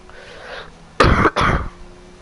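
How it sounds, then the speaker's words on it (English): Two quick, harsh coughs close to the microphone, the second following right after the first, then quiet. "I just got a cough there"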